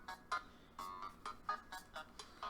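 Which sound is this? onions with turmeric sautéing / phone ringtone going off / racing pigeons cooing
phone ringtone going off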